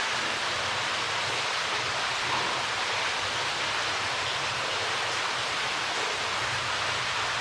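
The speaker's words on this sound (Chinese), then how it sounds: "听着水哗哗的流， 你就能够感觉到在开一个水声的音乐会" Water flowing and splashing down a waterfall inside a limestone cave near New Melones Lake, California, a steady, even rushing roar that fills the whole stretch with no talk over it.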